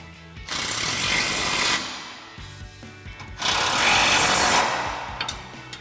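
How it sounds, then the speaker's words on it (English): Upper and lower suspension mounting bolts are tightened with an 18mm wrench and a 15mm socket while a Rough Country 3-inch bolt-on upper control arm lift kit is installed on an F-150. Two loud, close bursts of rapid rattling hammering are separated by a short pause. "we'll go ahead and tighten down our upper and lower mounting bolts with our 18mm wrench and 15mm"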